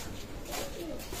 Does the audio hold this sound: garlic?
no